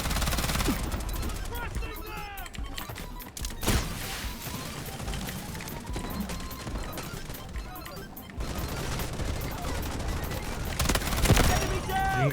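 Rapid automatic gunfire in the shooter game Delta Force, dense loud bursts of shots rattling almost continuously through the clip, with excited talk over the top.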